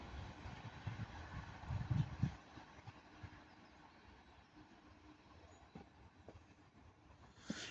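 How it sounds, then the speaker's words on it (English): Class 397 train 39136 "City of Coventry" on the Manchester Piccadilly to London Euston service passes at Ardwick: a rumbling, rolling roar that is loudest early and then fades into a steady, fainter rail hiss with occasional clicks. "now passed by is the return of my beast, 39136, City of Coventry, working 1 Alpha 26 from Manchester Piccadilly to London Euston"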